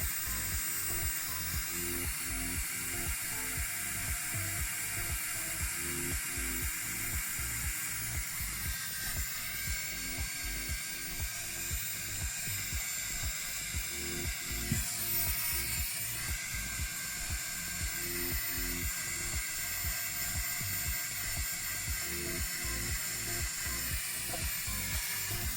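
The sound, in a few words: CUKTECH BF01 handheld USB turbo jet fan running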